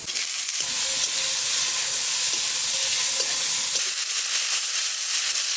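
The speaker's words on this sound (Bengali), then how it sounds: "রসুনটা একটু ভেজে নিয়েছি, এবার পেঁয়াজ দিয়ে দেবো।" Onions sizzle in hot oil in a pan already holding fried garlic, a loud, steady hiss with occasional stirring scrapes, close up, with no voices.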